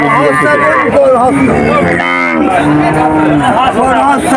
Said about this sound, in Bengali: এখানে প্রচুর পরিমাণ গরু আছে